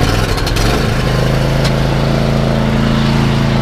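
A riding lawnmower engine catches and settles into a loud, steady mid-pitched idle, droning close and continuous with no one talking.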